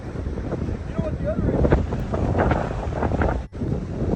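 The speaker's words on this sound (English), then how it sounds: "It's windy." Wind buffeting the microphone out on an open bay while paddling, gusty low rumble with splashing water and faint voices beneath.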